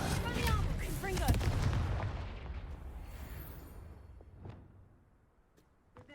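A Confringo explosion spell goes off in a Harry Potter video game, a dense fiery blast with crackling bursts that fades into a trailing rumble over several seconds.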